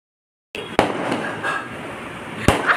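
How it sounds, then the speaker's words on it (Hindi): Fireworks go off outdoors during a celebration: after a moment of silence, sharp booming bursts ring out against a rumbling, crackling background, with a second loud bang near the end. "देखो फायर वर्क हो रहा है, वाह कितना सुंदर है"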